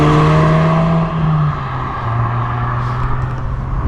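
A 2024 Ford Focus ST facelift drives along a spectacular road, its engine note loud and close at first, then easing and shifting pitch as it moves away, with no voices.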